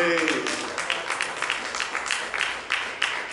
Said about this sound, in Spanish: Dale palmas al rey.